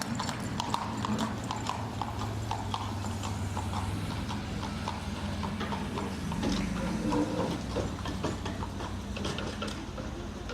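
Horse hooves clip-clop steadily along a road with vehicle traffic, a continuous mid-distance clatter over a low rumble of passing cars, with an occasional faint whinny and mechanical creak.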